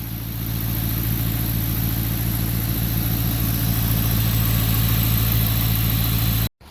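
A Dodge 5.7L V8 fitted with a 6.4L 392 intake manifold idles close by, a loud, steady low rumble with a rhythmic lope that cuts off abruptly at the very end.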